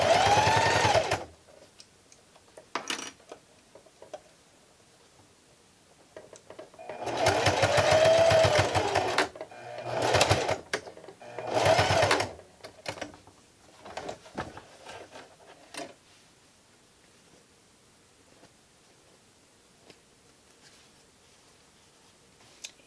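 A sewing machine back stitches a fabric face mask in several short, loud, rattling bursts of a second or two each, separated by quiet pauses with faint handling noise.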